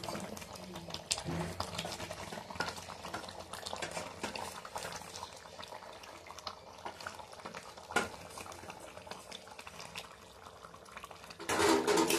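Spoon scrapes and clinks in a pot of simmering mutton curry with new potatoes, gentle bubbling under irregular stirring knocks, close by, ending in a louder burst of noise.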